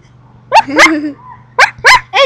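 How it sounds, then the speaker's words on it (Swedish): Barks from a dog in a video game come in two short clusters, loud and close over a faint steady electronic hum. "Oh my god, det är en hund."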